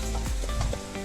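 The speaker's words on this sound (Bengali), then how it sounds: "এই আমরা মাংসের জন্যে মশলা কষাচ্ছি এখন প্রেসার কুকারে।" Spices for meat frying in a pressure cooker at a riverside campsite, a close continuous sizzle with scraping stirring strokes over it.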